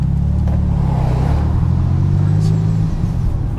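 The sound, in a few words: sports car accelerating in first gear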